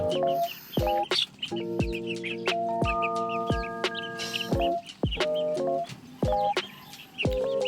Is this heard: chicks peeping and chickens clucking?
yes